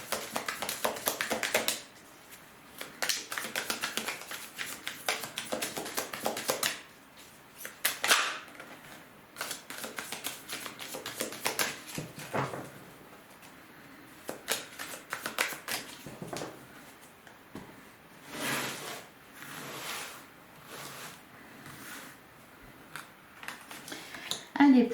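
Tarot cards are shuffled and drawn for a nine-card spread, producing a steady run of soft, dense flicking and tapping that continues with brief pauses.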